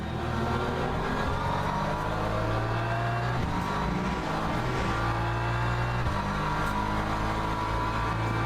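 Race car engines in the Le Mans Ultimate video game with a Porsche running behind, a constant loud engine drone with shifting pitch and revving, rising and falling tones, with no voices.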